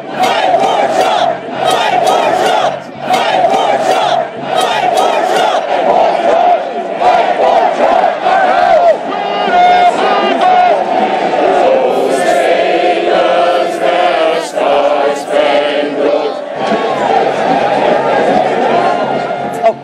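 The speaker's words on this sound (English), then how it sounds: "They start cheering." Crowd cheering and yelling at a protest outside the Capitol on January 6, 2021, a loud, sustained roar of many voices with shouts rising and falling throughout.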